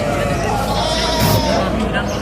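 Young milk lambs bleating among sheep at a busy Çorum livestock market, a tonal bleat rising over a steady crowd of voices talking close by.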